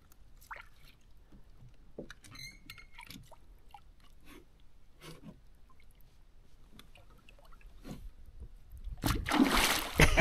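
A released flathead catfish thrashes in river water, giving a loud burst of splashing at the very end after a quiet stretch of faint drips and small movements.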